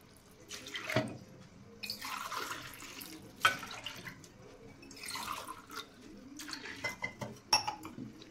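Water is poured into a pot of washed dal (split pulses for puranpoli filling) in a home kitchen, coming in uneven splashy bursts with clinks of a steel vessel and utensils, fairly quiet and without talk.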